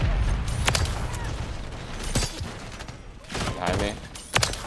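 Heavy shotgun blasts from the MX Guardian in Modern Warfare 3 multiplayer, several sharp booming shots spaced irregularly over constant game noise, with a voice talking faintly underneath.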